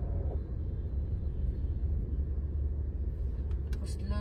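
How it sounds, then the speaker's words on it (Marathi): Distant road traffic hums as a steady low rumble of cars and motor vehicles on a city street, faint and continuous, with a few brief higher tones near the end. "कसलं ट्रॅफिक आहे बघ तिकडे."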